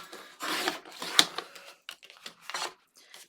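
Paper trimmed on a paper cutter for a mini album cover, heard as a series of close, crisp scraping slides and clicks of varying length, with a sharp snap partway through.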